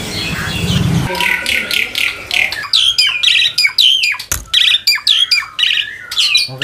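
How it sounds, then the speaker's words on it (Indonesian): An Asian pied starling (jalak suren), kept at a bird market, gives loud, close, repeated squawks and whistling chirps in quick bursts, with brief voices in the background. "begitu masuk disambut jalak suran"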